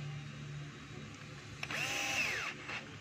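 A power drill drives a screw, a short close whirring burst with a rising then falling pitch after a quiet lead-in.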